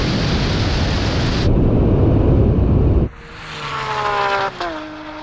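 Roaring engines of a Lamborghini SVJ, McLaren 720 and Porsche 911 Turbo S at a drag race launch, loud broadband thunder of full-throttle acceleration that cuts off, then rising whining engine tones as the cars pull away.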